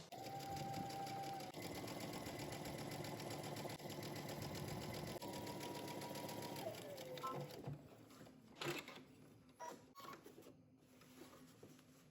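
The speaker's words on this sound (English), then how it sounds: "I'm going to go ahead and top stitch 3/8 of an inch from the edge." A sewing machine topstitches a jumpsuit seam in blue thread, 3/8 inch from the edge, running in a steady continuous whir for about seven seconds before stopping, followed by a few handling clicks and rustles.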